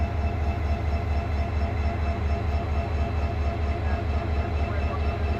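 Special pilot train 2910 stands at Mymensingh Junction station on a foggy night, its engine idling with a steady, low, pulsing rumble that runs throughout at moderate loudness.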